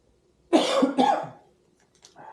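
Two quick, harsh coughs close by, one right after the other, followed by a faint short throat sound.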